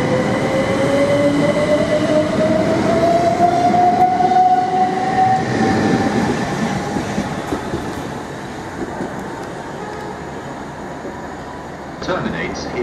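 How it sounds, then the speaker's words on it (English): A train pulling out of the platform at Chichester railway station, with rumbling, rolling wagon noise, a rising tonal whine from the traction motors and fading movement as it leaves, plus faint speech in the background. "This train is ready to leave."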